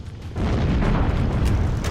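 Fusion reactor blowing up in a sci-fi shooter video game, a deep rumbling blast that swells in after a quiet start and holds as a loud, sustained roar with crackling debris.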